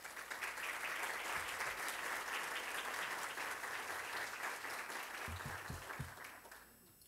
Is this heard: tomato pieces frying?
no